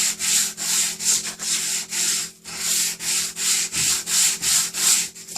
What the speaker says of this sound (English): I sanded it ever so gently, because remember, cardboard is basically wood pulp